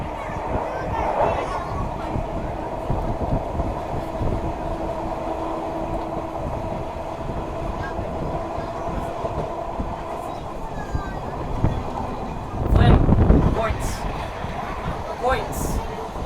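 The Fremantle municipal tram rolls along rails with a low continuous rumble and rattling wheel clatter, louder wheel thumps near the end, and voices talking faintly in the background.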